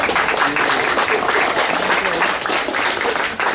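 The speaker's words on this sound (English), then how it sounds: "So please, a round of applause for my wife." Steady audience applause at a school opening ceremony, a dense wash of many hands clapping without pause for a few seconds, with faint voices mixed into the crowd noise.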